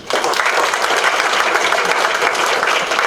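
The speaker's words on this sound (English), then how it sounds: "Give all the round of applause." A roomful of people at a school district board meeting breaks into sustained applause, loud, dense clapping that starts abruptly and continues evenly throughout.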